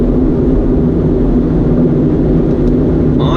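Steady, loud engine and road drone from inside the cabin of a 2019 Hyundai Elantra GT N Line hot hatch with a DCT gearbox, driven hard, running continuously with a brief change near the end.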